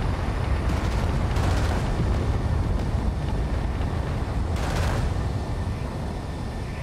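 A rocket barrage strikes a warship in the naval combat game Battlegroup: a continuous heavy rumble of blasts with a few sharper hits breaking through, loud and dense throughout.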